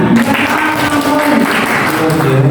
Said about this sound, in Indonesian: Oke, tepuk tangan untuk Bu Endang.